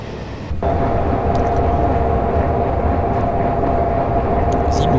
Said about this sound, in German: Da fährt der Zug nochmal an uns vorbei